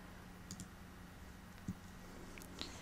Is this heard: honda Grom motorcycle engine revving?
no